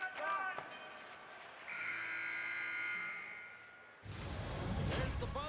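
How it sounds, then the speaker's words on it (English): In the NHL 26 ice hockey video game, the end-of-period buzzer sounds as a steady electronic tone lasting about two seconds, framed by brief clatter before and a burst of crowd-like noise after. "There's the buzzer, bringing period number 2 to a close."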